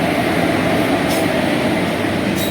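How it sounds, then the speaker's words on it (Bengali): Purulia Rupasi Bangla Express pulling out of Bishnupur railway station: a steady, loud rolling rumble of wheels and carriages that holds evenly throughout. "পুরুলিয়া রূপসী বাংলা এক্সপ্রেস ছেড়ে গেল যেটা তোমরা দেখতে পাচ্ছ"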